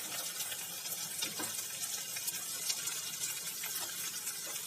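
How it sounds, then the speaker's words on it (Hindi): Water is poured into a pan of shahi egg curry to make the gravy, a soft, faint continuous trickle and splash with no talking. "अब हम इसकी ग्रेवी के लिए पानी डालेंगे।"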